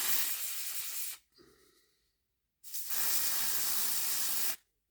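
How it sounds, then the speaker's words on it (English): An aerosol can of contact cleaner sprays onto the gears of a Hornby Class T9 model locomotive in two close, loud hissing bursts separated by a brief quiet pause. "Give the gears a good scoosh with contact cleaner."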